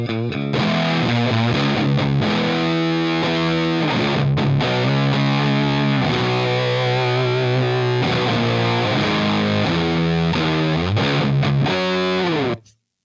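Electric guitar runs through a Drunk Beaver Bat Cold War RAT-style distortion pedal, with thick, fat high-gain chords and riffs ringing loud and alone for about twelve seconds before stopping.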